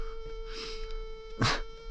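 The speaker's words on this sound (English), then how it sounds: "look at this bee, dude, just landing on my camera" A bee buzzes right beside a camera lens outdoors on a sunny mountain trail, a steady faint whine with a louder, closer burst as it moves in near the end.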